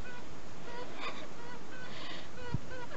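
A brief honking squawk from a chicken cuts through steady outdoor noise, close and fairly loud, with a muffled rustle around it.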